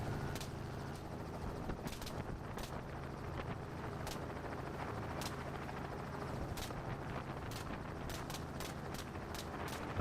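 Helicopter flying low during an aerial hog hunt, its steady rotor and engine roar continuous and loud throughout, with sharp gunshot-like cracks scattered through the clip, several clustered near the end.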